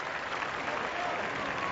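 Steady applause from a tennis crowd at a 2005 women's semifinal in Hong Kong, a dense, even wash of clapping at moderate level, heard alone without a break.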